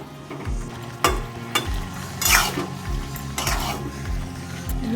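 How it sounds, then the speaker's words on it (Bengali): A spoon stirs paneer and banana flower ghonto in a pan after the lid comes off, with scraping, clinking knocks against the metal and a soft sizzle underneath, close and moderately loud. "ঢাকাটা খুলে একটু নেড়ে দেবো, আর একটু চাপা দিয়ে দেবো।"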